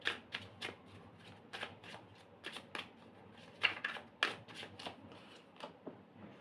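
Tarot cards shuffled by hand in a run of crisp riffling flicks and soft slaps, close and fairly quiet, with no talking over them.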